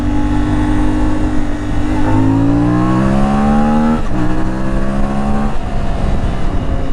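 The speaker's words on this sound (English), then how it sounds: "I don't know that I would say it accelerates any faster than a DRZ." An IBEX 450 motorcycle accelerates hard nearby. Its engine note climbs steadily in pitch, breaks off briefly at a gear change, then rises again before another shift.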